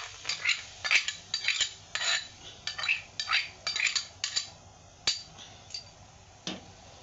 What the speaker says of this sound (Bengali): নেড়ে যেতে হবে, নাহলে ছিটকাতে থাকবে।